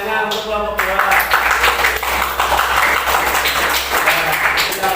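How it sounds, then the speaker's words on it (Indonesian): A class of students applauding a presenting group in a classroom, dense continuous clapping from many hands, loud and close, following a brief spoken voice. "tepuk tangannya untuk kelompok 2"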